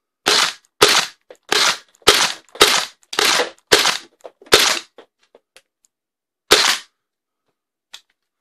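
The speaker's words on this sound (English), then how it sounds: "Let's shoot another 9 dart through it." Sharp, close snaps of a Hanke MX6 foam dart blaster firing darts, eight shots in quick even succession, a pause, then one more shot and a faint click.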